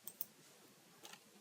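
Quiet typing on a computer keyboard, a handful of light, sparse keystrokes clicking close by over a soft background hum.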